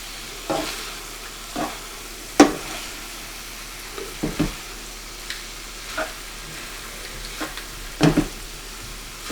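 Chow mein noodles being stirred and fried in a hot pan, a continuous soft sizzle broken by irregular scraping and tossing knocks, close and without talk.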